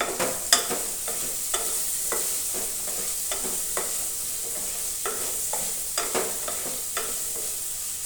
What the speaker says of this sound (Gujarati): આવી રીતે આપણે હલાવી લીધું છે